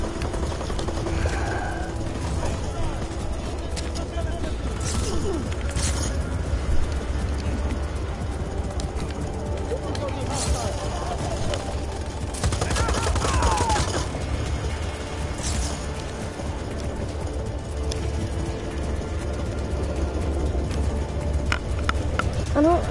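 Gunfire in the Just Cause 4 video game, dense bursts of shots and crashes over a constant rumbling background of game noise.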